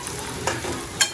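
Onion spice mixture tempering in hot oil in a home kitchen, a brief close sizzle with a couple of sharp pops or utensil taps, no voices.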